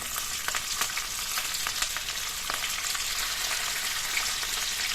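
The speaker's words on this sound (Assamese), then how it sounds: "তেলখিনি গৰম হোৱাত ইয়াত মই মাছ কেইপিচ ভাজি ল'ম" Fish pieces fry in hot oil in a wok for a home-style yogurt fish curry, giving a steady, close hiss with scattered crackles and pops throughout, no voices.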